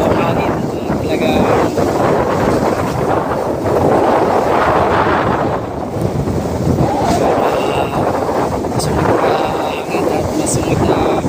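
Strong wind at sea off the West Philippines roaring and buffeting the microphone in steady gusts, with rushing water or engine noise beneath.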